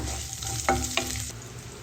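Cumin seeds and onion frying in hot oil make a steady close sizzle, broken by two brief stirring scrapes near the middle before the hiss settles.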